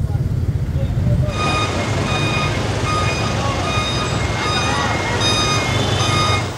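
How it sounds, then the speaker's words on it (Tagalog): A tow truck maneuvers on a Quezon City street corner during a traffic clearing operation, its steady, loud reversing beeps repeating without pause over a rumbling engine and general street noise. "Ayan na yung tow truck, nakapurma na."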